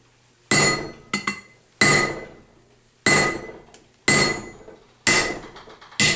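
Six heavy hammer blows ring out on a silver disc set on a tree-trunk block, each a sharp metallic strike with a bright ringing decay, spaced roughly a second apart, one quick double hit among them, no talking.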